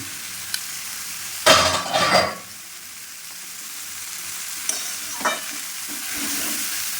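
Shredded cabbage is stirred into a pan of hot oil with potatoes for a cabbage and prawn ghonto. A steady sizzle of frying runs throughout, broken by two loud scraping bursts from the stirring.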